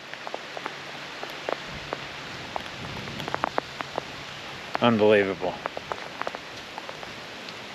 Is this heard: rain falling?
yes